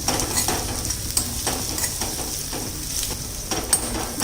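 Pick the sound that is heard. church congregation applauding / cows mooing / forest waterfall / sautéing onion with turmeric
sautéing onion with turmeric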